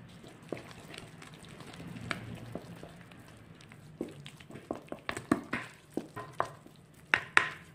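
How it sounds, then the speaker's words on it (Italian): Dough being stirred with extra virgin olive oil for pucce salentine with olives, soft sticky slaps and scrapes close by, turning into a steady rhythmic series of wet squelches in the latter half, no talking. "Mescolate ancora fino a quando non sarà del tutto assorbito."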